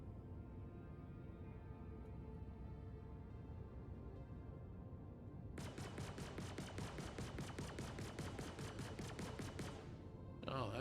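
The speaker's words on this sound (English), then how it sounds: "I control the bottom guns from here" Bottom turret guns firing aboard an RSI Perseus ship in the game Star Citizen, a rapid, regular burst of loud shots starting midway over a constant engine hum, then stopping before a final blast.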